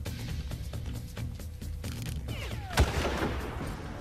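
A sniper rifle fires a single sharp shot in the Far Cry video game, standing out loudly near the end above a background of steady game ambience and rhythmic pulses.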